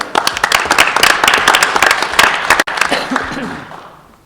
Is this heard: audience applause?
yes